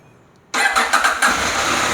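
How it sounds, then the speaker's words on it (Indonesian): A CFMOTO 800MT motorcycle engine fires up abruptly after a quiet moment, a loud starter catch followed by a few uneven pulses settling into a dense, close running rumble. "Pada saat mesin nyala,"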